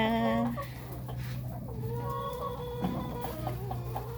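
Farm chickens cluck and call in a rural smallholding, several overlapping birds with a loud cry at the start followed by steady, nearby clucking over a constant low background hum.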